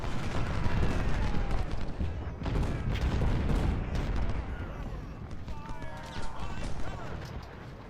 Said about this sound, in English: We've got plenty of artillery hitting them, though.